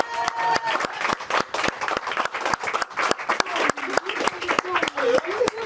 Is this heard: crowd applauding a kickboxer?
yes